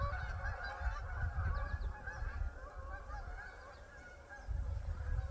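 A flock of Canada geese honks steadily in the distance over a wetland, calls overlapping continuously over low outdoor rumble.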